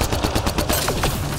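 Rapid sniper rifle fire in the video game Mass Effect Andromeda, a quick run of loud, evenly spaced shots with no talking.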